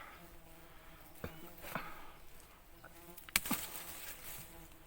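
Bees swarm around their nest outdoors, a faint steady buzzing with a few louder close passes and brief knocks, quiet overall.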